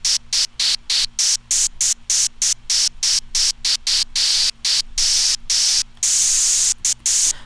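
A synthesized hi-hat with its filter emphasis raised, playing a steady run of crisp, bright noise hits in an uneven rhythm, loud and close, with no voices.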